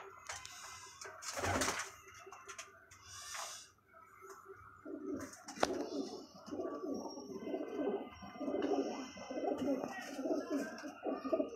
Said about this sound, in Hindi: ये है जी मेरे फेवरेट कमगर जो कबूतर कहलाते हैं।